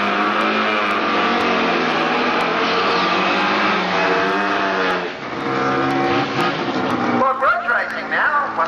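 Drag racing cars roar at Ravenswood Raceway during a January 1999 four-, six-cylinder and rotary drag event. A loud, sustained engine drone rises and falls with revving, while someone talks over it throughout.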